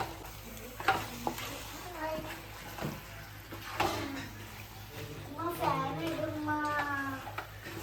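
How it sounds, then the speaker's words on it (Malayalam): Washed chicken tossed with masala in a pot gives scraping, wet stirring sounds and faint sizzling, with a person talking over it throughout. "ആ ചിക്കനിൽ എല്ലാ ഭാഗത്തും മസാല പിടിക്കാനായിട്ട് നല്ല രീതിക്ക് തന്നെ മിക്സ് ചെയ്തെടുക്കുന്നുണ്ട്"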